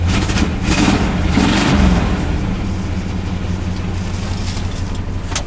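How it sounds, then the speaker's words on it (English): A 1965 Plymouth Fury III engine runs steadily and loud in the foreground, swelling in a couple of short rev surges near the start before settling into a rough, throbbing idle. "Rev it up."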